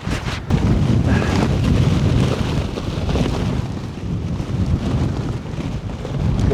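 Strong storm wind of 50+ mph buffeting a Fjern Stormgrotta 1.5 tent, a loud continuous roar with heavy rumble and fabric flapping that never lets up.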